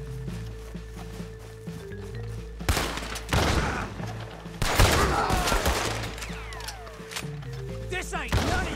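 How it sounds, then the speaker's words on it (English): Shotgun blasts from the video game Red Dead Redemption 2 boom in several loud, spaced bursts amid a gunfight, with game sounds and voices in the background. "Let me try this shotgun."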